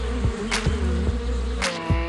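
A close, steady droning buzz of bees with a low harmonic hum and a few louder passes.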